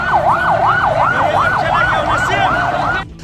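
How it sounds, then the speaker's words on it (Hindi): Ambulance sirens wail outside a hotel hit by an explosion and fire, a loud, rapid rising-and-falling electronic siren cycling steadily for about three seconds before cutting off. "पूरे इलाके में सायरन की आवाज गूंजने लगी"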